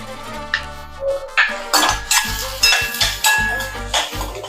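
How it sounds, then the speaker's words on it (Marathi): Onion being sautéed with a little salt for cauliflower Manchurian is stirred briskly in a pan, giving repeated close scraping and clinking strokes of a spoon against metal over a low sizzle, with no talking. "थोडंसं मीठ घालून घेऊया, जेणेकरून कांदा हा व्यवस्थित भाजला जाईल."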